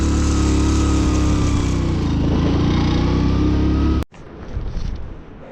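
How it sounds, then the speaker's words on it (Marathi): A vehicle engine with a fault, on a road in Ladakh, roars loudly and steadily up close for about four seconds and then cuts out abruptly, leaving only faint background rumble. "गाडीच्या इंजिनमधनं आवाज येतोय"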